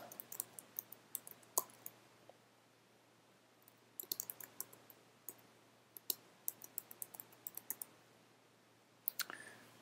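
Someone typing an address on a computer keyboard in quick bursts of crisp, close key clicks separated by short pauses, with a faint low hum behind them.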